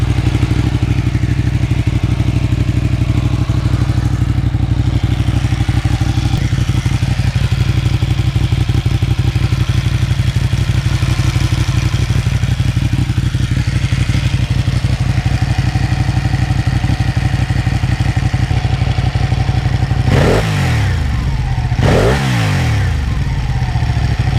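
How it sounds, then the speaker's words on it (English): A 2015 Ducati Panigale 899 motorcycle engine runs steadily at close range, a throaty, constant idle rumble for about twenty seconds before two sharp throttle blips rev it up and drop back near the end. "It doesn't whine like a Gixxer or a Honda. It has that higher pitch. It has a more throatier to it."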